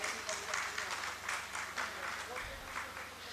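An audience applauds at a Hindi poetry recital just before a poet begins a new poem. The clapping is dense and steady, with voices mixed into the crowd noise.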